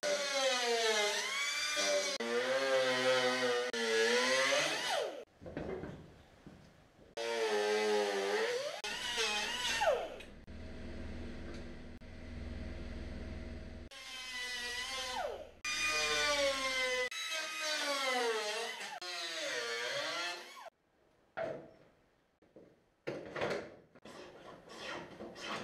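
Pneumatic whiz wheel air tool cutting a rear bumper skin on an A2 replica quattro, a loud high whine in long sustained bursts that rises and falls as it bites, with short gaps and quieter spurts near the end.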